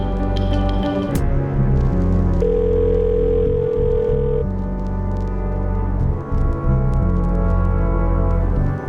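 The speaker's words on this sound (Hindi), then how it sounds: "रिंग जा रही है, मतलब यहाँ का नंबर वहाँ एक्टिव है।" A telephone ringback tone on an outgoing call, a sustained electronic tone lasting about two seconds over a loud, dense dramatic music background.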